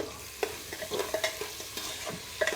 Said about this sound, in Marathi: आता हे थोडंसं छान परतवून घेते.